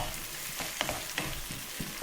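Mussels cook in a tomato and chilli sauce in a wok with a soft continuous sizzle, broken by a few brief clinks and stirring scrapes, close and alone with no voices.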